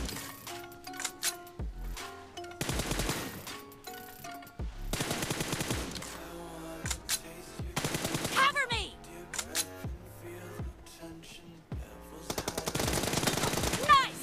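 Bursts of automatic gunfire from an FPP team deathmatch shooter game ring out in rapid repeated volleys separated by short gaps, loud and close, with a voice talking intermittently over them.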